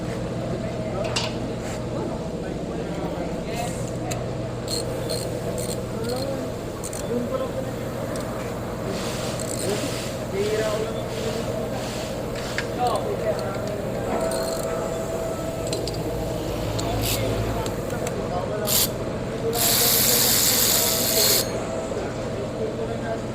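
A Hyundai Elantra engine with a timing chain problem runs with a steady mechanical rattle and scattered ticking clicks. A voice talks over it for much of the time.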